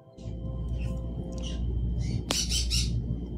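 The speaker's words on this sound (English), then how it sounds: "My birds are chirping." Pet birds chirping and squawking indoors in short bursts over a steady low hum, with one sharp louder squawk partway through; the calls are fairly close but moderately quiet.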